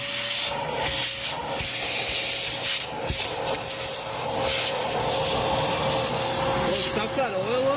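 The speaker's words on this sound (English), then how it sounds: "You telling me this shop vac actually sucks?" A shop vac roars loudly and continuously up close while sucking up oil during a 7.3 Power Stroke Super Duty repair, a hissing, whooshing airflow with occasional gurgling shifts and a rising pitch wobble near the end.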